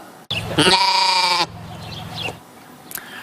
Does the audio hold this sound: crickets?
no